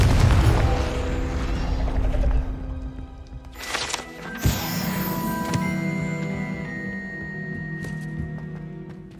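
A Confringo fire spell bursts in Hogwarts Legacy, a booming blast with sharp cracks and crackling debris that rings out and fades over several seconds, with a second hit midway, amid game ambience and no talking.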